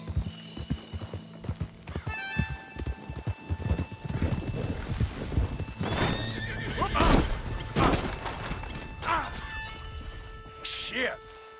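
Wild horses whinny loudly several times over a rush of galloping hooves in the video game Red Dead Redemption 2, with voices talking over the action.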